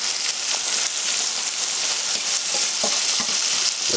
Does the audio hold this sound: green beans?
yes